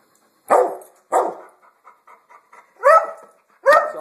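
Two dogs barking after their baths indoors, four loud close barks spaced out with soft whimpers and panting between them.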